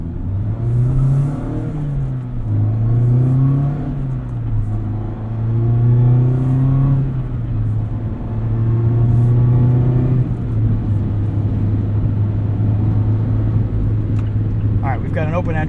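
A 2024 Mazda MX-5 Miata Club with the top up accelerates onto a highway, its engine a loud, continuous rumble that rises and falls in pitch through the gears, under someone talking throughout.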